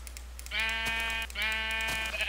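A Minecraft sheep bleats twice in quick succession, each call a nasal, wavering baa of under a second, heard clearly over a low, constant hum with no talking.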